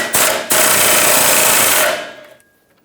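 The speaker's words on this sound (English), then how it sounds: "Let's loosen up the bolt that holds this track bar onto the frame" Wrench and 17mm socket loosening the track bar bolt on the frame of a 1996-2002 Toyota 4Runner's rear suspension, close and loud: a sharp metallic hit, then a sustained ratcheting grind for about two seconds before it stops.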